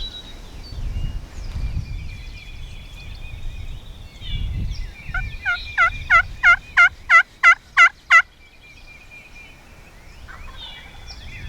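A wild turkey gobbles in a rapid burst of about eight loud repeated calls from a ridge on a hunting morning, ringing clearly over quiet woodland background with faint rustling before and after.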